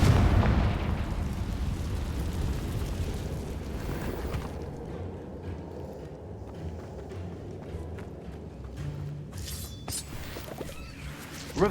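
A Confringo fire spell explodes in Hogwarts Legacy: a loud burst up front gives way to a long rumbling, crackling tail of fiery combat noise.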